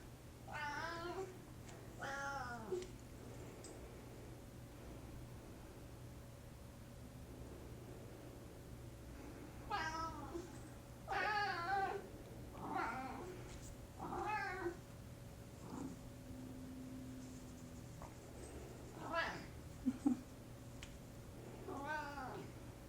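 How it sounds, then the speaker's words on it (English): A pet cat named PJ meows repeatedly in a quiet indoor room, a series of distinct, fairly close calls spread out with pauses between them over a steady low background hum. "You get to meet a new kitty."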